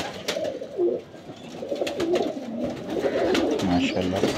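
A teddy pigeon coos repeatedly at close range, its low rolling calls recurring through the clip while nearby speech mixes in.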